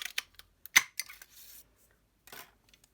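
Scissors snipping through whisper white cardstock during card making, a few short crisp cuts followed by a longer slicing pass, close and quiet with no talking.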